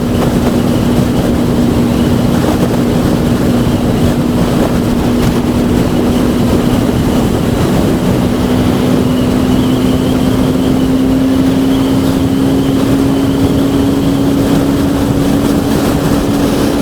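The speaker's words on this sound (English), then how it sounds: "there's quite a bit of wind" Wind buffets steadily and loudly as a SYM NHT 125 motorcycle is ridden along country roads. A low, continuous engine drone hums beneath the rushing air throughout, and no one speaks.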